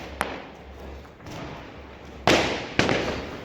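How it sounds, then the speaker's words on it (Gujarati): Diwali firecrackers burst in quick succession: a small crack, then two loud, sharp explosions close together, with a low hum underneath. "બહુ જોરદાર ફટાકડા ફૂટ્યા"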